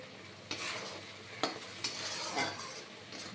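Mustard prawn bhapa bubbles and spits in a covered pan just uncovered, a steady hiss broken by several sharp pops and crackles.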